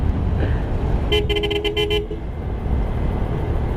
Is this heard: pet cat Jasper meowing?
no